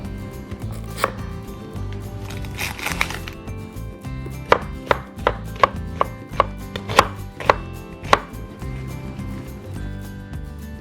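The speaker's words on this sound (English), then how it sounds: "Now cut 1 cup of yellow onion into strips" A knife chops a yellow onion into strips on a cutting board, a run of evenly spaced sharp chops up close, getting faster and more regular toward the end, with light handling sounds between strokes.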